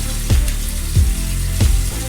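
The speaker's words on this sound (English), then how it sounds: "So I like to rinse, when I see food in it, rinse it into the garbage disposal side" Running water from a kitchen tap rinses food into the garbage disposal side of a sink, a steady close splashing rush with three brief surges.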